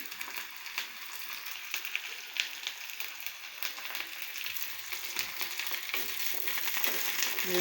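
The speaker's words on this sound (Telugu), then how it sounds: "బాగా ఫ్రై అవనిద్దామండి" Curry leaves crackling and sizzling in hot oil for a fish curry, a soft, steady frying hiss with small irregular pops, fairly quiet and close.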